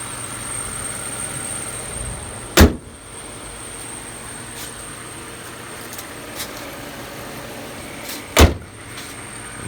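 A Lexus LS or ES engine idling smoothly and quietly nearby as a steady low hum, broken by two sharp door-like clunks, with a faint high whine running throughout.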